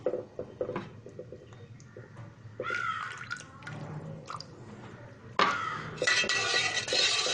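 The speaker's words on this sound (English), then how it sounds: "slowly you have to keep it stirring also" Milk stirred in a metal pot while curdling with diluted lime juice for rasgulla, with scraping, knocking utensil clinks against the pot and a louder sustained stirring rush near the end.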